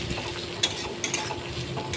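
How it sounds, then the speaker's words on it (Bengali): Chopped tomato is stir-fried with spices for a fish curry: a soft, steady sizzle with a few light stirring scrapes and clinks, fairly faint and with no talking. "টমেটো কুচিটা দিয়ে ভালো করে এবার কষিয়ে নেব"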